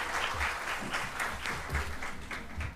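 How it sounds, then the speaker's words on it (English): An audience at a National Science Day event in Hyderabad claps for a guest named Teja, giving a brisk, lively round of applause that holds steady for the full few seconds. "Big round of applause for Teja."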